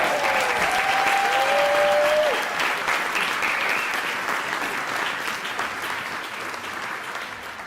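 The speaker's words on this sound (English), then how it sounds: "Let's give them a huge round of applause." A large audience applauds startup finalists at a global competition final in the UK, loud sustained clapping that swells then gradually thins, with a brief whooping cheer early on.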